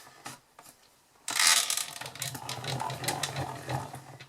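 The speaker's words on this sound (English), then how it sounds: "pop it into your machine. Run it through." A paper card being cranked through a manual embossing machine: a few quiet clicks, then a loud burst of grinding, rattling mechanical whirring that continues steadily, close up with no voices.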